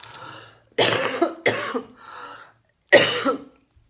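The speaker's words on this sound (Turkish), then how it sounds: "Çok konuştukça da daha çok öksürmeye başlıyorum" Three or four harsh coughing bursts from a woman, close and loud, with short pauses between them and one final cough after a silence.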